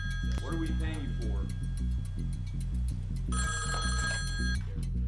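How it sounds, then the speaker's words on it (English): A telephone bell rings loudly in repeated bursts in the Ghost Executioners live stream, with a voice talking over the ringing. "We're gonna answer the phone"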